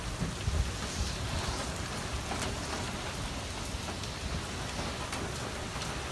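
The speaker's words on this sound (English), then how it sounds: "Just a whole lot of wind and rain." Steady heavy rain pouring and hissing with gusting wind during Hurricane Irma, a dense continuous wash of noise, no voices.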